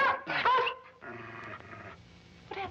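A dog in a 1953 period drama growls and whimpers in a short strained burst, then a steadier low whine trails off, with a brief yelp at the end; fairly close and moderately loud, no talk over it.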